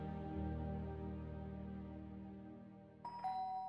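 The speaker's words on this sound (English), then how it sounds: "The doorbell rang." A two-note chime sounds once, bright and clear, ringing out after a stretch of low sustained tones that fade beneath it.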